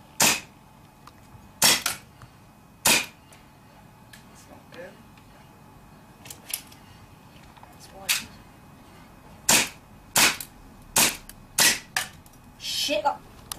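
BB gun shots fired at an aerosol can outdoors, a dozen or so sharp cracks at irregular intervals, some in quick pairs, with faint voices between shots.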